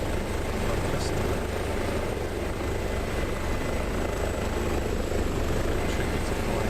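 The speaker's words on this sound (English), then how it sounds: "There's the helicopter." An HPG H145 air ambulance helicopter from Microsoft Flight Simulator over the Scottish Highlands gives a steady, loud, continuous rotor and turbine drone that stays even throughout, with no break.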